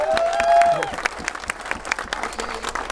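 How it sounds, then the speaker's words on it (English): A wedding crowd breaks into lively applause with scattered cheers and a whistle, dense clapping that gradually thins out. "Give them a round of applause."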